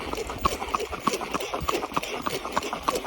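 Rocky Mountain horse hooves clip-clopping at a walk, a steady, even rhythm of distinct hoof strikes, moderately close, with faint background noise.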